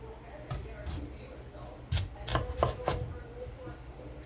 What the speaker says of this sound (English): Cut them into wedges.